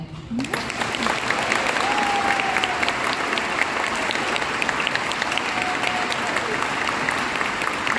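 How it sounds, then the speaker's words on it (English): A community gathering's crowd breaks into long, loud applause, dense steady clapping with occasional whoops and voices mixed in. "give a round of applause to Rosalie Hendon"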